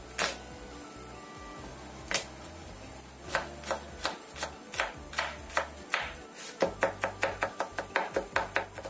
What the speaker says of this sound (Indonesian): di sini aku akan pakai 3 siung bawang putih. Ini kita cincang halus